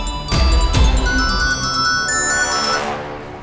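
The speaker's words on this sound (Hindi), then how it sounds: "फोन की आवाज आ रही है" A mobile phone ringtone rings out with sustained electronic musical notes, joined by a couple of low thumps near the start, then fades gradually.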